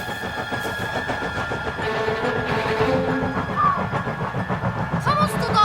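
A passenger train rolls along a railway line with a continuous rumbling, clattering roar that grows slightly louder, with faint squeals and hissing near the end.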